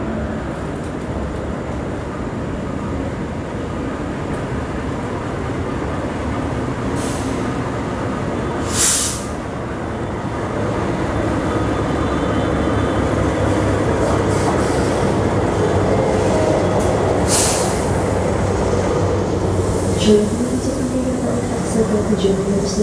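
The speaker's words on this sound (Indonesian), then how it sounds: "ini dari arah utara masuk kereta api Taksaka" The Taksaka passenger train pulls into a busy station platform from the north with a steady rumbling roll that swells midway, brief hissing bursts standing out above it.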